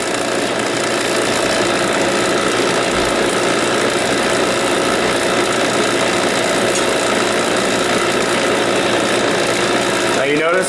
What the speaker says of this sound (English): first turn on my pump so I don't lose my vacuum